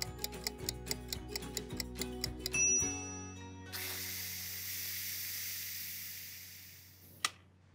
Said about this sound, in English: Now I'm gonna set the seal and I'm gonna let this pressure cook for 5 minutes